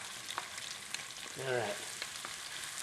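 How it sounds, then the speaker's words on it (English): Chopped onion sizzling as it drops into hot olive oil and butter on high heat, a brief burst of frying crackle that rises and settles within a second or two, close by, with a short spoken word in the kitchen. "into this oil goes some onion"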